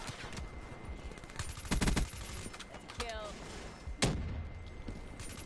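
Shotgun and gunfire blasts from the video game Call of Duty: Infinite Warfare, several sharp shots in a quick burst with a later single blast, over game background noise.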